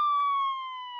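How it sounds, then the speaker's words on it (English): Police car siren played as an audiobook sound effect: a single sustained electronic wail with a steady, slightly falling pitch, clean and prominent against silence for about a second. "Suddenly, outside, they hear the sound of a siren."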